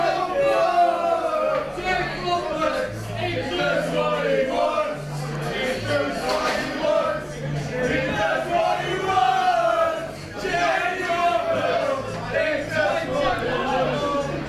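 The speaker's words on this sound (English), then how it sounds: "As you can hear, those by the crowd today, Jake Roberts has got a lot of fans in the building." A crowd at a pool match cheers and shouts loudly for a player after a winning black ball, a dense roar of voices and chatter that swells, dips and rises again throughout.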